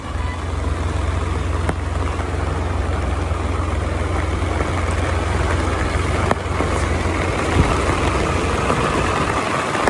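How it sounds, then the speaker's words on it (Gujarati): A tractor engine drones steadily at idle-like pace while reversing, a constant low rumble with faint clanks, heard outdoors with rain around. "રિવર્સ મારો ટ્રેક્ટર"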